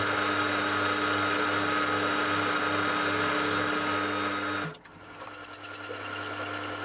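A steady machine drone with a constant hum runs for several seconds while facing the metal ends of a drill grinding jig part to length, then cuts off abruptly into a softer, fluttering mechanical whir.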